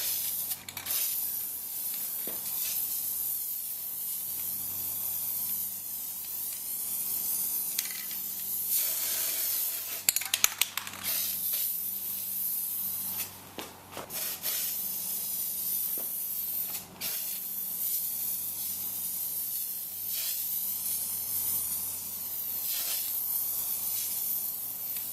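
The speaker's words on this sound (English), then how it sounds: "I'm just going to put on a nice fine mist for the first coat, kind of like I do with Plasti dip" A rattle-can spray paint nozzle hisses out fine misting coats onto a Toyota Tundra grill, long continuous bursts with brief pauses, close and steady.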